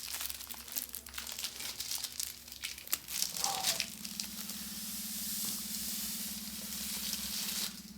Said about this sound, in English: the most satisfying part, which is the removal of the plastic